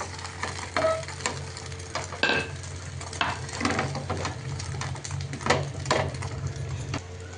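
An omelette frying in a pan, with a soft continuous sizzle under intermittent scrapes and taps of a utensil against the pan.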